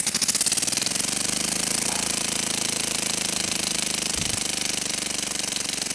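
A homemade air-powered piston engine runs on compressed air at 7 bar, a rapid, steady mechanical chugging and rattling pulse, loud and close, continuing throughout.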